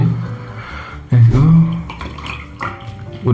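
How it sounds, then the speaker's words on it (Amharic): Cold water splashes and pours onto ice in a couple of short bursts, fairly close and loud, with brief pauses between. "እስኪ እቺን ውሃ እናድርግበት። ይሄ ቀዝቃዛ ውሃ ነው።"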